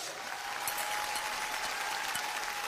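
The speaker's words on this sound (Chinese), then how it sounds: "来，我们掌声响起来，" A steady wash of audience applause on a television talk show ahead of a Shandong kuaishu storytelling performance, with many hands clapping evenly at moderate distance and no talking over it.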